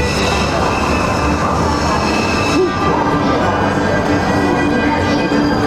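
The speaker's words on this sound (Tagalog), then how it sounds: "Ayan na, yung train." Subway train arriving at an underground station in Cologne: a loud, continuous rumble and rolling roar with a faint squeal, filling the platform with echoing noise.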